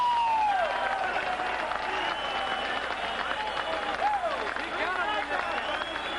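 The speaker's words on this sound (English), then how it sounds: "And the crowd reacts." Arena crowd at a 1983 professional boxing bout applauding and cheering in the final seconds, a broad, sustained roar with clapping and babble, while whistles or shouts rise and fall above it.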